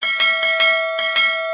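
Several clear bell strikes ring out alone in a quick uneven rhythm, bright and sustained with a steady ringing tone, loud and close.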